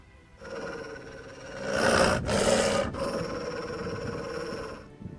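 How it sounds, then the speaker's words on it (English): A dog growls in The Witcher video game, a sustained rough, rumbling snarl lasting several seconds, swelling louder midway before easing, close and alone. "That dog seems to be looking for something."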